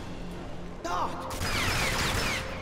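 A burst of gunfire in the video game Rage, a few sharp shots with whizzing, ricocheting tones, loud and close over low background noise.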